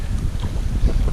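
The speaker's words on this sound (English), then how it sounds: "Oh, the wind's getting up now too" Wind gusting outdoors beside water during a fishing session: a steady, close buffeting rumble against the microphone that fills the whole moment, with no voices.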